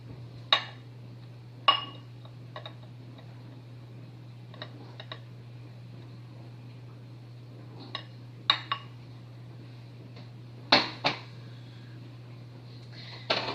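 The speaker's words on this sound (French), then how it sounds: "mélangez 85 g de sucre de Jello, une tasse de sucre" Jello powder, sugar and cornstarch being mixed in a bowl, heard as a spoon clinking sharply against the side at irregular moments over a steady low hum, close and without talking.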